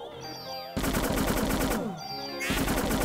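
Rapid automatic gunfire in the video game Parasite Eve, loud fast-repeating bursts in two runs separated by brief game tones and whooshes, with no talking.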